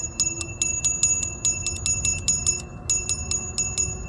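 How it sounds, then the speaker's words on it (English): The handlebar bell on a CirQ X1 electric mountain bike rings in a rapid run of bright, repeated dings, one short pause breaking the series, over a low rumble of outdoor noise. "you get a bell. So while you're yelling at people on your left, you can also hit the bell."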